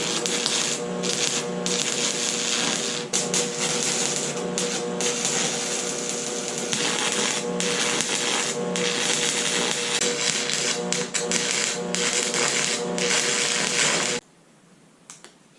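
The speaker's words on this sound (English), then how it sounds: "Time to tack weld up these mounting brackets." Steel mounting brackets for Ford Bronco rock sliders are tack welded, a dense crackling buzz running steadily and close for about fourteen seconds with brief breaks between tacks, then stopping into near quiet.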